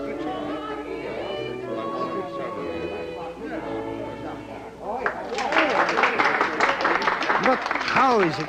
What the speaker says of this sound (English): the storm of applause is not abated